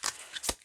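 A tarot card deck being shuffled, with two quick bursts of riffling cards close by, the second the sharper and louder. No one speaks.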